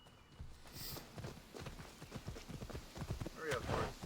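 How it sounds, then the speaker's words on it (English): Hooves of a horse in the video game Assassin's Creed Odyssey clip-clop in a quick, steady gallop rhythm, close and distinct, with a short whinny-like burst near the end. "Hurry up, horse."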